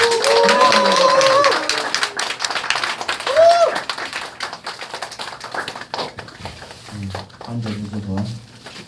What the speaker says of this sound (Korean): 박수로 드리겠습니다.